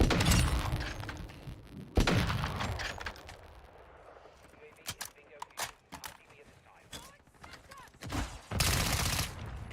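Gunfire at a shooting gallery in the Call of Duty DMZ video game: bursts of sharp cracks, a loud cluster early, scattered rapid shots in the middle and another burst near the end, with a voice speaking at points.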